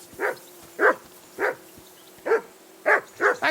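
Sharp barks from a dog in the medieval world of Kingdom Come Deliverance 2 ring out close and clear, six or seven spaced yaps with brief pauses and no voices over them.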